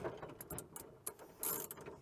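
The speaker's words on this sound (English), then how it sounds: "this ratchet is great because it allows you to use a ratchet on something that most of the time you'd need a wrench for" A hand ratchet clicking in short bursts while tightening the mount of a rooftop box on a custom truck roof rack, close and fairly quiet with no talking.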